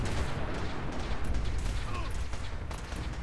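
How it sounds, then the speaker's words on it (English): Gunfire in the video game Fallout 4, a steady dense rumble of distant shots and explosions running throughout without a break. "What are they shooting at?"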